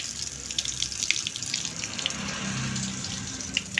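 Water gushing steadily from a tap during a DIY plumbing leak test, a continuous close splashing stream that stays loud and even throughout with no talk over it.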